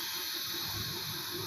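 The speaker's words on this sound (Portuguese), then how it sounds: "Levantei aqui o pininho para tirar o último arzinho." Pressure cooker used to roast chicken lets its last steam out through the lifted valve pin, a steady loud hiss with no break across the whole moment and no voices.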